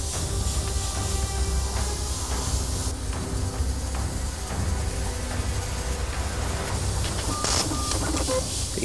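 Airbrush blowing a steady stream of air to dry freshly sprayed paint on a clown mask, a continuous broadband hiss running unbroken throughout with faint background hum.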